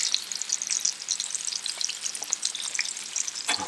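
Burger, onions and bacon frying together on a Blackstone griddle: a steady, dense crackling sizzle with sharp spatter pops, and a scrape of the spatula on the metal near the end.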